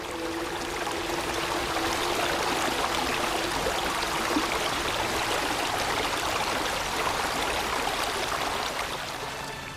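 A mill stream redirected through a brook on the outskirts of Halbenrhein in the lower Mur valley flows steadily, a dense continuous rush and trickle of water that stays level throughout with no voices.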